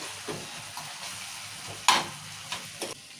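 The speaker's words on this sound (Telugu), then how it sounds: "టమాటాలు కూడా మంచిగా నూనె ఇట్లా మగిపోయినాయి" Tomatoes softening in oil for a bottle gourd curry, a soft continuous sizzle near at hand broken by a sharp spoon-against-pan clank and a couple of lighter stirring taps.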